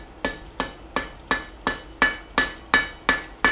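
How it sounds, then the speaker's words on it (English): Hand hammer blows on hot steel while forging a knife: nine sharp, evenly spaced metallic strikes with a ringing tone, close and alone. "Hammering"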